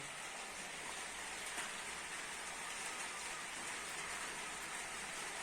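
Steady, even rain falling and spattering on surfaces, a continuous hiss that holds at the same level throughout with no other sounds.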